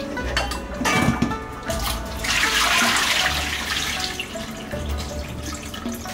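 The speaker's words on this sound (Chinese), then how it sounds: "排骨适量，先用清水清洗一遍" Pork ribs rinsed under clean running water in a kitchen sink, a close splashing gush with sloshing and drips that surges midway, then settles, with no talk.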